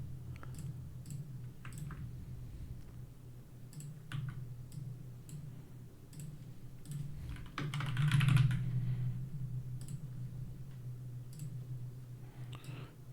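Rapid keyboard typing clicks away steadily while coding a hacking game, the keystrokes close and fairly quiet over a continuous low background hum, with a brief louder noisy burst partway through.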